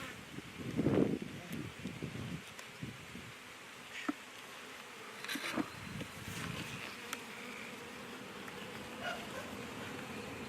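A honeybee swarm buzzing steadily near backyard hives, a dense drone with bees passing close to the ear now and then, while people talk quietly underneath.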